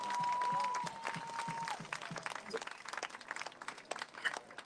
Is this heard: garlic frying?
no